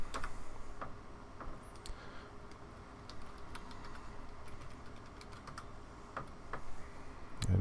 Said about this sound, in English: So I'm going to type in root.